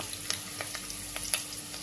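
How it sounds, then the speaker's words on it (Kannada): Curry leaves and onion fry in oil in a pan for a home-style black-eyed pea curry, a soft steady sizzle with a few light scrapes of a spoon, quiet and close. "ಇದನ್ನ ನೋಡಿ ಈ ಥರ ಫ್ರೈ ಮಾಡ್ಕೋಬೇಕು"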